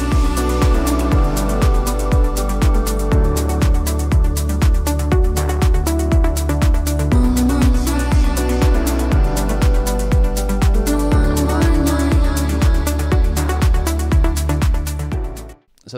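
Melodic house track, with a steady four-on-the-floor kick under sustained chords and bright melodic layers, playing loud and continuous before cutting off abruptly at the end.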